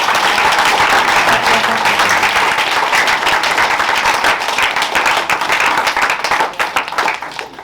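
A church congregation claps and applauds for Jesus during an intense prayer service, dense sustained clapping from many hands close and loud throughout, easing slightly toward the end.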